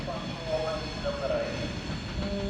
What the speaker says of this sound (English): a Virgin Trains Pendolino service to Manchester Piccadilly is pulling in